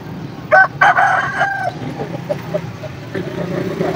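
At a bird market in Sargodha, a rooster crows loudly and close by, followed by clucking fowl and distant traffic noise.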